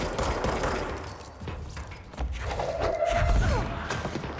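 Gunfire from a weapon in the video game Control: heavy booming shots and thuds in a dense burst of loud combat noise, with a rising whoosh partway through.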